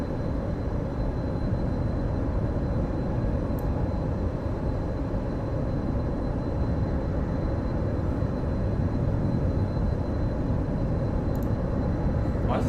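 In Microsoft Flight Simulator, the engines of a Halo Pelican aircraft at high speed make a steady, loud, broadband roar. It holds a thin high whine and stays unchanged throughout, with no voices.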